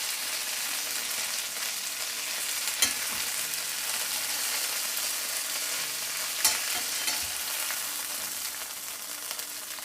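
Garlic sizzles steadily in a frying pan, a close, continuous crackling hiss with a couple of sharp clicks from stirring.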